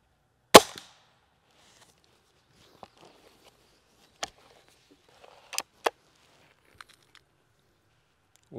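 Gamo Shadow IGT 24 J air rifle, a budget break-barrel gas-ram gun, fired in a few sharp, dry cracks spaced seconds apart with faint handling clicks and rustles between, close and otherwise quiet.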